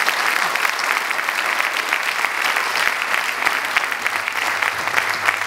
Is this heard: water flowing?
no